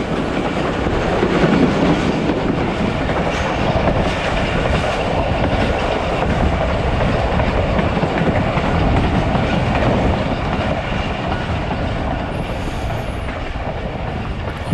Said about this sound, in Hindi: और इसके बाद फिर ट्रेन स्लो डाउन होना शुरू हो गया ग्रेजुअली